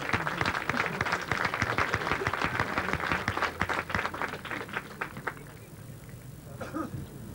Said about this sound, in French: Vous pouvez applaudir M. Noël